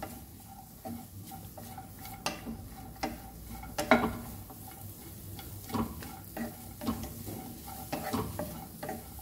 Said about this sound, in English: So I will saute this onion for few minutes on high flame.